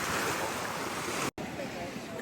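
Sea waves wash onto a beach in Greece with a steady broadband surf roar and some wind buffeting, broken by one brief dropout.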